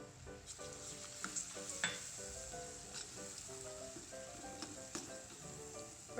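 Ghee tempering sizzles in a pan for dal makhani with Kashmiri chilli, cream and ginger-garlic paste, a steady close crackle with a few louder spits, over a soft tonal musical bed.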